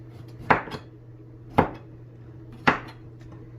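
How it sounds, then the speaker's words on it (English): Three sharp knife chops through pineapple on a cutting board, evenly spaced about a second apart, against a low steady hum. "you just cut this into small bites"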